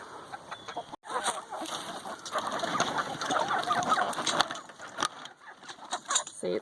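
Chickens cluck and chatter close by while being fed leftover almond pulp from juicing, a busy, uneven stream of clucks and squawks with scratching and pecking noises throughout.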